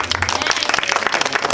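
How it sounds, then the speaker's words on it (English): A church gathering welcoming visitors breaks into a short burst of dense crowd applause, steady and fairly loud, with faint voices mixed in. "Let's give a hand of applause."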